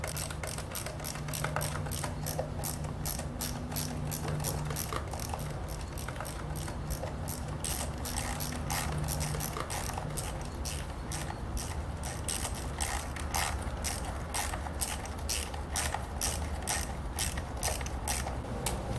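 Clutch cover bolts being snugged down, a steady run of quick, close ratchet clicks with a soft mechanical rattle, continuing evenly throughout at low volume.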